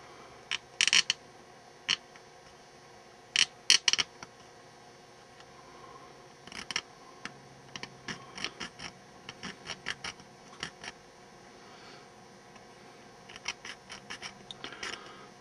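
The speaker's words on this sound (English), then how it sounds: "I'm going to grab my photo etch blade" Light scraping ticks from a photo etch blade cutting a model car rear-end part for a 1972 Dodge Dart mockup, coming as sparse, irregular short clicks and scrapes close by with quiet pauses between.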